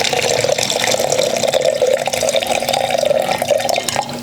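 Water poured into a jar for a homemade crystal experiment, a continuous close trickling and splashing stream, fairly loud and steady before tapering slightly at the end.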